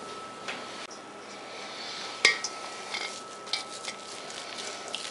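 Meatloaf mixture being moved from a mixing bowl into a baking dish in a home kitchen: quiet soft handling noises with one sharp clink of a dish or utensil midway and a few lighter taps after.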